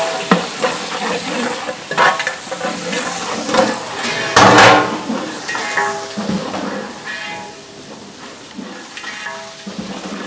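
Large batch of onions, about 1.5 kilos, frying in hot oil with cinnamon and cloves for mushroom biryani, a loud crackling sizzle broken by irregular scraping and stirring strokes in a big vessel, no talking.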